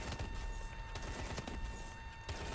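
Dense, continuous gunfire from a futuristic-military Call of Duty: Advanced Warfare firefight, rapid overlapping shots forming a steady barrage at constant loudness with no voices.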